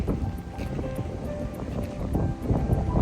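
Warm wind buffets the microphone at a Soma Bay beach resort in Hurghada, Egypt, producing a low rumbling gusty roar that swells and eases over a few seconds, with faint ticking beneath.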